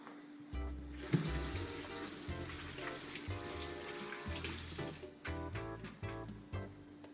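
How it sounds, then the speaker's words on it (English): Hands rinsed under a running kitchen tap while making a dressing: a steady, fairly quiet stream of water splashing, with small shifts as the hands move through it and no speech. "Now, I'm going to rinse my hand off."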